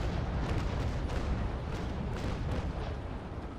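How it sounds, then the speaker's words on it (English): Naval cannon fire in the Naval Action sailing game, a dense, continuous rumbling barrage of booms that stays loud throughout with no pauses. "so let's fire at that elevation"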